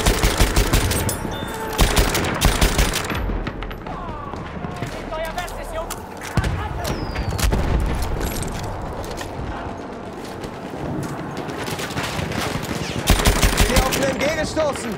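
Machine guns fire in Battlefield 1 during a World War I battle, with a Chauchat among the weapons, giving dense rattling bursts of rapid shots throughout amid loud battle noise, with voices talking over it.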